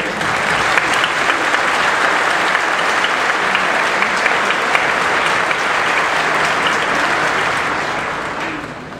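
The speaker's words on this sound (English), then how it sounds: "Please join me in offering a round of applause" An audience at a graduate school graduation ceremony applauding, dense sustained clapping from a large crowd that holds steady for about nine seconds before starting to fade at the end.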